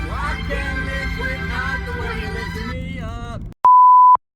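A phone gives a single loud, steady electronic beep tone at the end, just after a stretch of people talking, signalling an incoming call from a customer.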